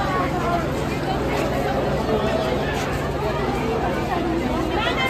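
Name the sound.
crowd at Bolpur Shantiniketan railway station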